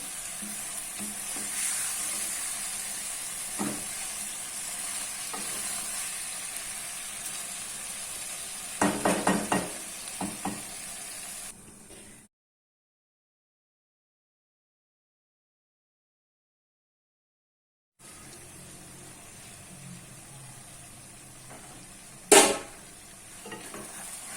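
Arbi (taro) curry being stirred in a frying pan, a steady sizzle with scraping and clinks of a spoon against the pan, broken by a long silent gap before the frying resumes and one sharp metallic knock.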